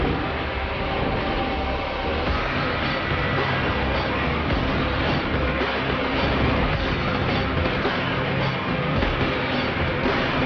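A train in the video game Metro Exodus rumbles steadily in a dense, continuous roar with faint rhythmic clatter throughout, loud and close with no pause.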